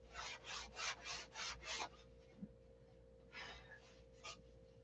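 Sanding a shaped board by hand with 80-grit sandpaper, a series of close, soft rasping back-and-forth strokes, then quieter scattered passes over a low steady hum.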